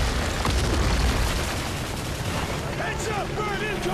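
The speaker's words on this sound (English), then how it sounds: "That thing is shooting missiles or something." Missiles streak and explode in a Call of Duty: Modern Warfare 3 battle, a dense rumbling barrage of booms and gunfire with whooshing, rising trails near the end, loud and continuous throughout.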